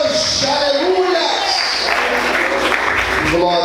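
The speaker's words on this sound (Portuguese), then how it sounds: "Será que você pode aplaudir a Ele hoje?" A church congregation claps loudly and steadily during an evening service, the applause continuous throughout, with a voice and music carrying over it.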